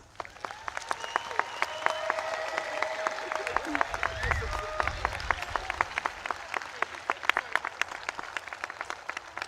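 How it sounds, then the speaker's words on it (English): A commencement audience at a pharmacy school ceremony applauds the graduates with dense, sustained clapping from a large crowd, with faint music or cheering underneath. "Ladies and gentlemen, please join me in applauding the achievements of these graduates."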